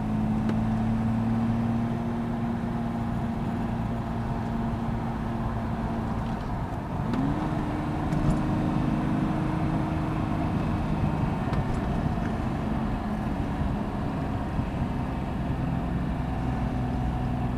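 A 1972 Jaguar XKE E-Type fixed-head coupe with a 12-cylinder engine drives steadily, its smooth low engine drone running continuously with a couple of gear or rev shifts, heard from inside the car.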